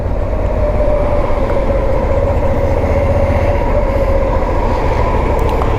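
A bus passes on a Hoboken street, heard from a touring Suzuki V-Strom 650 motorcycle. Its engine makes a loud, steady rumble with a sustained drone throughout, close by and with no talk over it.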